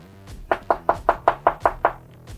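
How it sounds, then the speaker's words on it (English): Eight firm knocks on a house door, evenly spaced and close by, with no talk over them. "Let me just knock on this door here."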